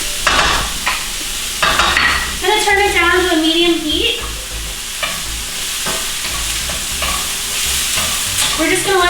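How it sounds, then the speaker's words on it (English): Jalapeno sautéing in a pan over medium heat for Cajun shrimp stuffed poblano peppers, with a steady sizzle and scattered scraping taps from stirring, while someone talks over it. "let this saute for a few minutes, and then we'll add the garlic as well"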